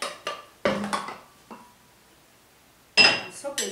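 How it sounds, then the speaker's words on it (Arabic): A copper pot being lifted and handled in a home kitchen while cooking a sauce, giving a few separate metallic clanks and knocks with quiet gaps between them, close and fairly loud. "ناخذ النحاسة"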